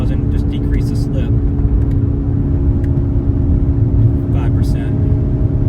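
A C8 Corvette on drag radials idles and revs toward 4,000 RPM, giving a loud, steady low engine rumble. Brief voices are heard over it.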